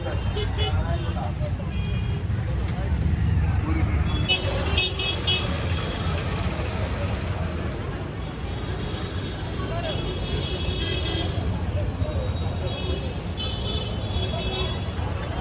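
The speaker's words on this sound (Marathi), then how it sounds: "हैदराबादचं ट्रॅफिक." Busy Hyderabad city traffic with a steady, loud road rumble of cars and buses, broken by repeated car horn toots that sound over the din throughout.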